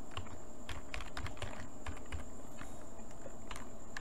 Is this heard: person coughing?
no